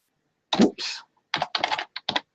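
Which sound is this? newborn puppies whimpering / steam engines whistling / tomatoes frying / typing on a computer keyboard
typing on a computer keyboard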